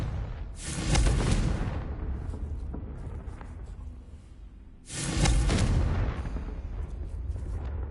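A Confringo blasting spell from Hogwarts Legacy goes off as two heavy, rumbling explosions, each a loud burst followed by a booming decay, the second landing about four seconds after the first.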